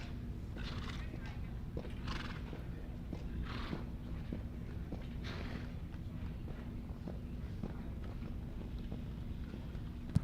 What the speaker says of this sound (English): Our horse, a 13-year-old Belgian warm blood by Emerald van der Rottershof out of Eclipse